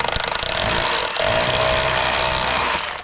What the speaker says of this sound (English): get it on hammer and just drill a little pilot